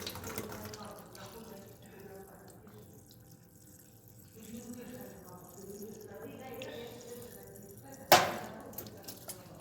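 Water runs from a drinking-water tap at a medical university in Russia, a soft trickle under someone speaking, with a sharp splash or burst of flow near the end.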